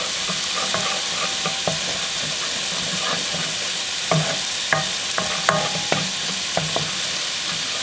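Coriander and caraway seeds fry in a pan for a knish filling: a constant hissing sizzle with scattered scrapes and taps of a spoon stirring close by.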